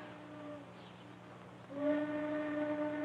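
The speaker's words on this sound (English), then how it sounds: "Train whistle." Train whistle sounding twice, a brief steamy tone that stops, then a louder, fuller blast after a pause, heard at middle distance with no talk.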